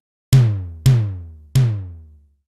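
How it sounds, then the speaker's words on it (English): Three punchy electronic tom hits from a Simmons SDS8 drum machine sample, evenly spaced, each with a sharp attack, a low pitched body and a quick decay, heard alone. "load in a sample from the Simmons SDS8 drum machine"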